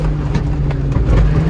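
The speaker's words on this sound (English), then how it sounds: "All wheel drive. Let's get some nice donuts going." Honda CR-V with all-wheel drive spinning donuts in mud, a loud continuous low engine drone with steady throbbing, the motor working hard throughout.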